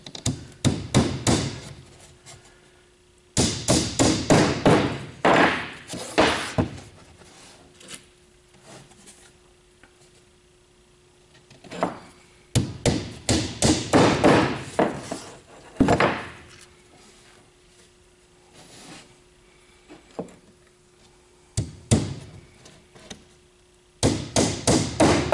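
An inch-and-a-quarter nail is hammered into the corner of a wooden bee hive inner cover, sharp close hammer blows landing in quick bursts of repeated strikes with short pauses between, plus a faint steady hum underneath.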